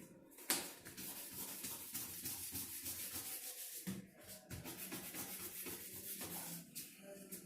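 Sandpaper rubs a craft piece in steady one-direction strokes, a continuous close scratchy rasp with brief pauses between passes and some voices faintly in the background.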